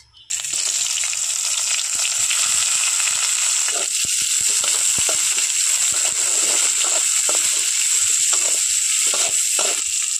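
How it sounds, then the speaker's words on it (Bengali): Chopped onion hits hot oil already holding whole spices and cumin, bursting into a loud, continuous close-up sizzle that stays dense and steady throughout, with a few faint clicks of stirring underneath. "এখন আমি দিয়ে দিচ্ছি কুচনো পেঁয়াজ"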